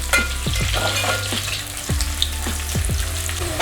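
Green chillies fry with browned onions in a pan for chicken biryani, a close, continuous sizzle broken by repeated scraping strokes of a spatula stirring the mix.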